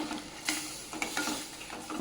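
Masala sizzles softly in a pan of tempered spices while a spoon stirs it, with light scraping taps against the pan at a gentle, uneven rhythm, quiet and close.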